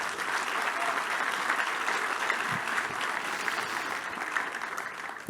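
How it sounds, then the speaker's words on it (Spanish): A church audience at a Bible seminar claps steadily for the Lord, a broad, even wash of many hands that holds at a constant level for several seconds. "Sí, déle un aplauso al Señor."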